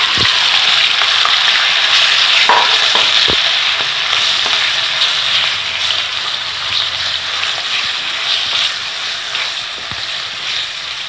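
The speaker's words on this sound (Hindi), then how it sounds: "अब ये कीमा मैंने ऑयल मैंने गरम करने के लिए रख दिया था पहले ही। अब इसमें मैंने ये कीमा ऐड करना है।" Minced meat (keema) frying in hot oil in a pan, a loud, continuous close sizzle with a few knocks and stirring sounds.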